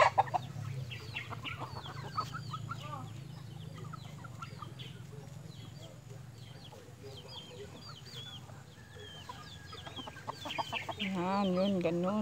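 Hens with their chicks on a farm cluck softly and intermittently at a distance, with faint peeping calls over a low background hum and a louder burst of clucking near the end.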